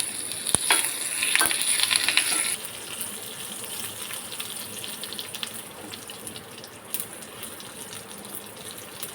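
Curry leaves hit hot oil in a tempering for besan dhokla, giving a loud crackling sizzle for about two seconds that then settles into a quieter, steady spitting fizz, close up with no voices.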